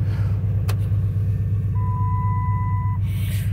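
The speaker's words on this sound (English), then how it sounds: "typical fast idle for this." A 2002 Oldsmobile Bravada or 2009 Dodge Grand Caravan SE engine runs at a fast idle just after a cold start, a steady low rumble with a brief click and a thin whine over it.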